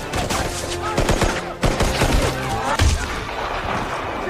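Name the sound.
gunfire during an enemy attack in a film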